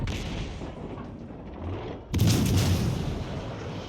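Naval guns fire in a video game: a low rumbling hum gives way to a sudden heavy boom with a loud, lingering blast that fills the rest of the moment.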